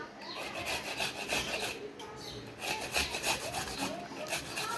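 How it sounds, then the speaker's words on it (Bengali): Food rubbed back and forth on a grater, a steady close rasping scrape in continuous rhythmic strokes with a few brief pauses, no talk. "এই যে পুরোটাই ঘষে নেব।"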